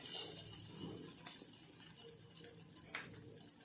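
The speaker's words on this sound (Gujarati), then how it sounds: "હવે તેમાં આપણે પાણી નાખી દઈશું।" Water is poured into a cooking pan holding cumin tempering, giving a steady, fairly quiet splashing rush that lasts the whole moment with no talk.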